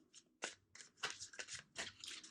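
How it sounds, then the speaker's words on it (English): Quick riffling tarot card shuffles, several soft papery bursts in a row, close and fairly quiet with no talking. "Two more shuffles."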